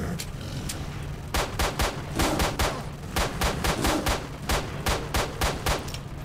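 Rapid gunfire from a weapon in S.T.A.L.K.E.R. Shadow of Chernobyl, a steady run of sharp, loud shots in quick bursts with a continuous low game-ambience hum underneath and no voices.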